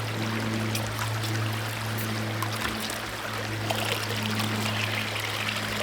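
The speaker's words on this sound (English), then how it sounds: "we should have a full flow of water coming out, because it's going to pull from the source" Steady rushing flow of water pouring from the drive pipe of a ram pump as it siphons from the source, a constant close wash with no talking.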